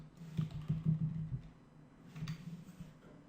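Typing on a computer keyboard, soft and fairly faint, with a cluster of key taps early on, then a pause, then a few more taps.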